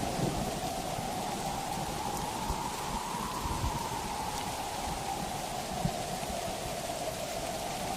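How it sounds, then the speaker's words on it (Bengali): A Kal Baishakhi thunderstorm pours heavy rain in a dense, constant roar, with low rumbles of thunder beneath the steady downpour. "ঝড় শুরু হয়ে গেল এ তো ঝড় নয় যেন কেয়ামত"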